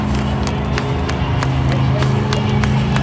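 Monster Jam fans in St. Louis cheer and clap for the Grave Digger monster truck, a thick, continuous crowd roar with scattered sharp claps and a deep rumble beneath.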